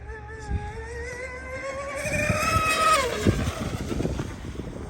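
A Proboat Geico Zelos Twin 36 RC boat converted to a single Leopard 4082 motor races across smooth water, its electric whine rising in pitch as it speeds past and fades, heard from the bank with wind noise.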